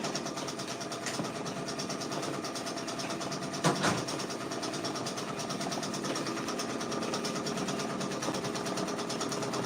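Brother Persona embroidery machine stitching a patch, a steady rapid mechanical whir and needle chatter running continuously at moderate level, with one brief louder clack midway.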